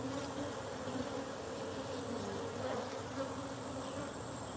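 Wild honey bees swarm from an opened hive, a dense, agitated buzzing that fills the air continuously and close by, steady in level throughout.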